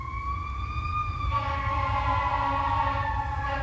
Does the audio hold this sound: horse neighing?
no